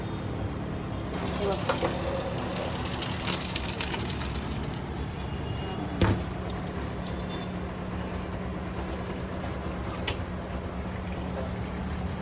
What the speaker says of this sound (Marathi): भातातलं पाणी काढून घेते